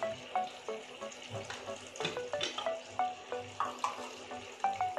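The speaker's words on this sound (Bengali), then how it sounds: "এখন আমি এই থার্মোসে রাখা গরম জল আমি দিয়ে দিচ্ছি।" Hot water from a thermos poured into simmering poultry chicken curry for a thin red jhol: a faint watery pour with soft sizzling, broken by light clinks and stirring taps from the pot.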